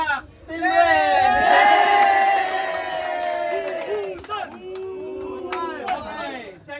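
A team-building game crowd erupts in loud whoops, shouts and cheering for Team Red in fourth place, voices rising together then fading into scattered calls and chatter, near and energetic.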